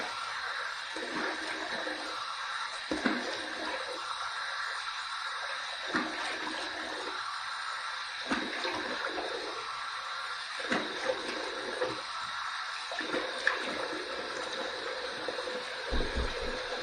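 Water from a tap runs into a sink to rinse after a wet shave, a steady moderate rush with intermittent splashes and gurgles as hands move through the stream, no talking.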